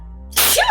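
A single sharp human sneeze bursts out close by after a moment of quiet, during a casual livestream conversation.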